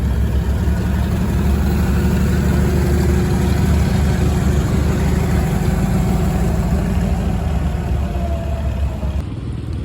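A 400 diesel tractor engine running at a steam and gas engine show in Berryville, Virginia, a loud steady low chugging rumble close by, continuous with no talk.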